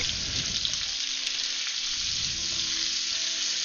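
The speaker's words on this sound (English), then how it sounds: "And add my mince, which in this case is minced turkey," Minced turkey fries in a hot pan with a loud, steady sizzle and hiss that fills the whole clip, close up, with faint stirring scrapes underneath and no talking.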